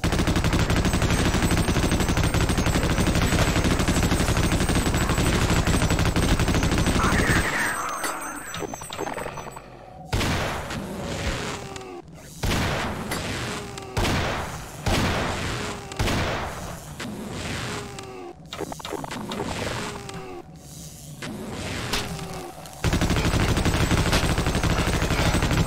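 Video game combat with loud, repeated gunfire and booming grenade explosions in rapid succession, framed by dense continuous noise before and after the burst of firing.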